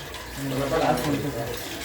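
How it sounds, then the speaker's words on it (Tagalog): Plenty of tap water runs during washing, making a steady, fairly loud rushing hiss. Voices talk faintly underneath. "Sarap maghugas dito. Maraming tubig."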